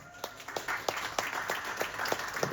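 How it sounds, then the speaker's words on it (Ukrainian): Audience at a Ukrainian film event claps for a film producer, with distinct, fairly sparse claps from a modest crowd landing in a quick, uneven rhythm over a faint steady hum. "Ваші оплески."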